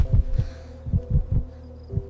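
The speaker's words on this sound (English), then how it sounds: "just her heart beating loud" A loud heartbeat sound effect, deep muffled thumps in paired beats repeating at a steady, slightly uneven rhythm, close and alone with no talk.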